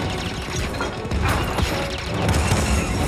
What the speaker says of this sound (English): So those are the blasters.